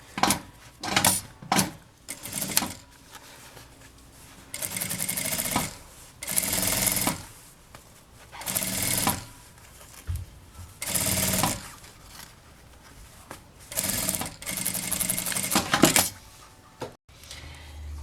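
A sewing machine stitches a seam on the lining of a simple Lisboa-style bag, running in repeated short bursts of rapid mechanical whirring separated by quiet pauses.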